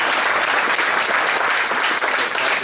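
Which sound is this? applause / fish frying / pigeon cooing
applause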